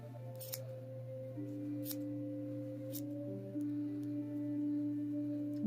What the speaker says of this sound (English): let's just go ahead and cut all the loops